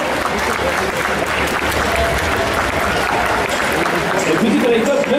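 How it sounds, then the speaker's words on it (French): An audience at a cosplay contest during an indoor festival claps loudly and continuously for a costumed contestant, thick sustained applause with crowd murmur and voices mixed in. "Et on l'applaudit bien fort"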